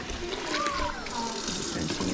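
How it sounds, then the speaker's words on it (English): Running kitchen tap water rinses food while curry is cooked at home, a steady close gush and splash filling the whole moment, with voices faintly underneath. "Just rinsing it a couple times."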